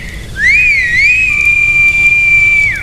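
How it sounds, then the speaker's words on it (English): A loud, piercing whistle with a rising, wavering pitch that then holds steady for about two seconds, alone over quiet background, in a horror-story setting. "Just then, a deafening whistle pierced the silence."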